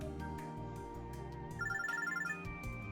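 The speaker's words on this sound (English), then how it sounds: "And we're receiving a phone call." A phone rings in a quiet park in the video game Robotics;Notes Elite, a short repeating electronic ringtone trill over soft background music.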